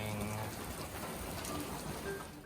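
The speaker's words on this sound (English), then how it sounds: "It's raining." Faint, steady patter of rain on a surface, a soft continuous hiss with no voices.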